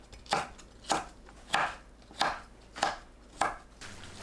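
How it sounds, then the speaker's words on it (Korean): A knife chops red chili peppers diagonally on a cutting board, six evenly spaced crisp thuds, close and fairly quiet. "홍고추를 어슷 썰어주세요"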